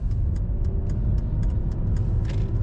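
A 1994 Mercedes-Benz E320 convertible cruising on a dry winter road in Minnesota, its engine giving a steady low rumble under loud, constant road and tire noise, heard from inside the car.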